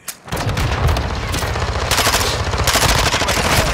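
Sustained automatic gunfire from Call of Duty: Modern Warfare II, a dense, loud stream of rapid shots running almost the whole time after a brief quiet start.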